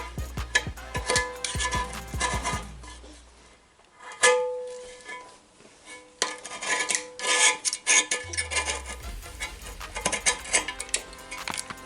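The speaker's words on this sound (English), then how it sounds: "just be careful with your blade, and then just slowly but surely make your way around the sink" A blade scrapes old, hardened silicone from around an undermount sink in bursts of close, rasping strokes separated by brief pauses and occasional light clinks, with no talking.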